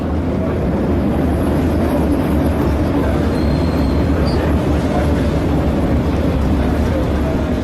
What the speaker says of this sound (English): we went on a tram ride around Pyongyang